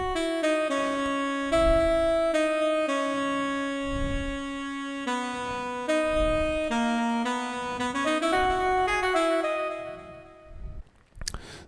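Layered soprano and tenor saxophone virtual instruments from Expand play a sustained chord progression, held notes shifting every second or so over a soft low pulse, clean and moderately loud with no voices.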